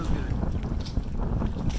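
Wind blows steadily across an open lake, buffeting the microphone with a low, continuous rumble.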